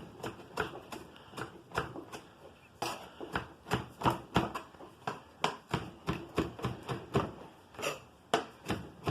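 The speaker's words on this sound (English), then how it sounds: "just run your knife through, give it a nice rough chop" A knife chops through fresh oregano on a cutting board in a quick, uneven series of soft, close knocks and scrapes, fairly quiet and without talk.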